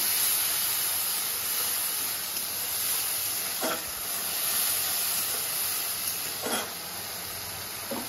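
A paste of one tomato and two green chilies sizzles as it hits fried onions in a pan for Bengali-style bhindi masala, giving a steady, even hiss with a couple of brief crackling bursts.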